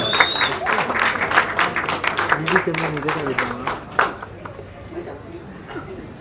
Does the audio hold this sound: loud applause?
yes